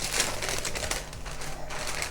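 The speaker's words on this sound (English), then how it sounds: "So take your greaseproof paper," Greaseproof paper rustles and crinkles as it is handled and pressed into a baking tin for a tropical pie, with dense, steady crackling close by throughout and no talking.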